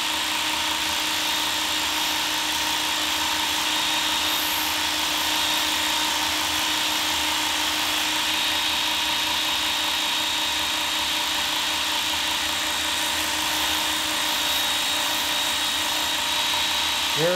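A Ken Onion Work Sharp belt sharpener runs steadily while a chisel bevel is cambered, a continuous high-pitched whirring hum with faint belt hiss, loud and close and unchanging throughout, with no voices.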